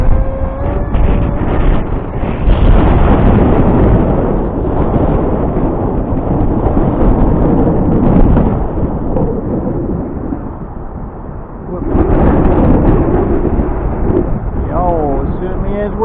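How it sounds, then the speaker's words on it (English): Strong gusty wind roars and buffets the microphone on a blustery day at a flying spot for a Bixler 2 model plane, loud and continuous, easing briefly before surging again. "Oh, it certainly is windy up there."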